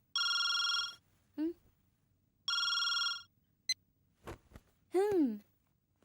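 A telephone bell rings in two loud, steady bursts in a Telugu comedy film scene, followed by brief vocal sounds and soft clicks.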